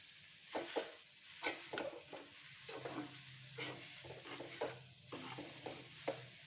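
Roasted chana dal with ghee, jaggery and coconut being stirred in a pan, a quiet steady sizzle broken by rhythmic scraping strokes of a spoon.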